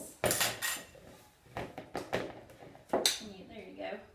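Jar lid being opened on a homemade alcohol or vinegar herbal tincture, heard as several sharp clinks and knocks of glass and metal spread through the clip, with people talking around them.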